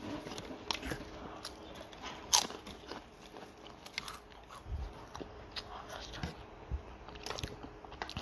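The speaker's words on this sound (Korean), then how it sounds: "오감자는 언제나 먹어도 맛있네요" Close, crisp bites and crunchy chewing of Ogamja potato snack chips, a run of sharp crackly crunches repeating irregularly with no talking.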